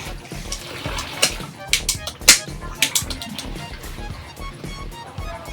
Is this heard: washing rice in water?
yes